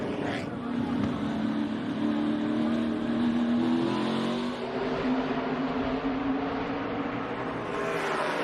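NASCAR Xfinity Series race cars roar off the start at Las Vegas Motor Speedway, a loud, continuous pack of engines with rising revs and slight tire spin, sustained throughout with a brief dip midway.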